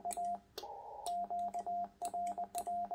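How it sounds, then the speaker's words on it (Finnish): Morse code comes through an amateur radio station's receiver as a steady, clear tone keyed in short dots and longer dashes, at a moderate level and heard alone without voices. "Nyt kuuluu morseaakkosia."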